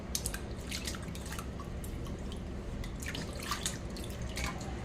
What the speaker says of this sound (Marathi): ह्या बाऊलमध्ये मी घेतलेलं आहे साधं पाणी आता हे छान प्रकारे ह्याने मी धुवून घेणार आहे